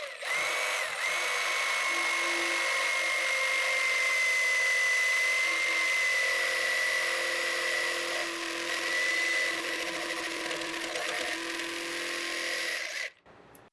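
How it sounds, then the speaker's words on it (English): Power saw making a left-handed plunge cut into a workpiece, a steady high-pitched whine held loud and close for about thirteen seconds before cutting off abruptly at the end, with no talking. "Make sure you're pressing down so your saw doesn't jump away from you"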